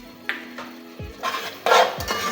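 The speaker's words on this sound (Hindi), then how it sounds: "इसको अच्छी तरह से मिक्स करेंगे।" Chicken being mixed with yogurt in a pot for bhindi chicken, with several clinking spoon scrapes against the metal pot and a soft sizzling background, close and moderately loud, with no talking.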